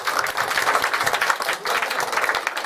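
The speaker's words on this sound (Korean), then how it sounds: "우리 박수 치겠습니다" A church congregation claps during a Sunday worship service, a loud, close, even burst of many hands that keeps going without a break.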